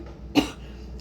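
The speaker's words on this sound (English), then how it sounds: "excuse me while I cough out the truck exhaust" A single short, sharp cough from a person breathing in truck exhaust near a revving truck, close and brief, standing out against a low rumbling outdoor background.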